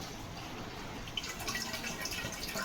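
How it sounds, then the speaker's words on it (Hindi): Tap water starting to come through in thin, sputtering spurts as trapped air escapes the line on a rainy day, a steady hissy trickle that grows slightly busier partway through, close by with no talking. "ये देखिए थोड़ा थोड़ा टैप में पानी आना शुरू हुआ है।"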